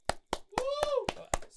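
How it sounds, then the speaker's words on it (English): A small group gives a short round of light hand claps on a podcast, seven crisp claps at an even quick pace, with a brief sung or drawn-out voice rising over the middle claps. "Let's get a wee clap."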